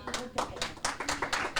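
A small group of people clapping in a podcast studio, with about seven or eight sharp claps at a steady, slightly loose rhythm, close and fairly loud.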